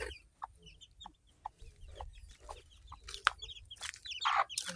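Hens clucking nearby in short, irregular bursts, with a few louder squawks toward the end over a low background hum.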